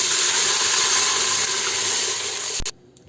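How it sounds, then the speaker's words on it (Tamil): Water pours steadily into a pot of masala for Hyderabadi chicken dum biryani: a loud, continuous gushing splash up close that cuts off abruptly near the end. "தண்ணி ஊற்றிடலாம்."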